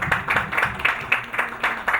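A small audience claps at a press conference for a Moroccan world Muay Thai champion, a brief burst of fairly close, uneven handclaps.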